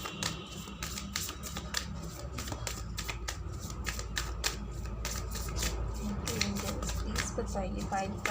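A deck of tarot cards is shuffled in quick, continuous riffles, a dense, even patter of crisp card snaps close to the microphone.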